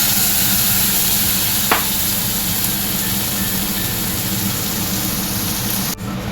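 Masala frying with browned onions in a pan, a continuous even sizzle with a low background hum, one brief sharp clink early on and no talking.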